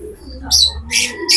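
A racing pigeon in a loft gives soft coos and chirps in short bursts, fairly close, with quiet low background hum between calls.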